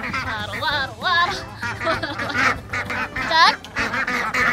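Ducks on a farm let out a lively run of loud, nasal quacks and honks, several overlapping calls in quick uneven bursts close by.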